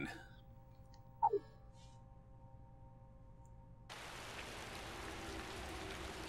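In a video game, a quiet tonal hum with a brief chirp, then at about four seconds a soft, steady rain hiss fades in and continues to the end.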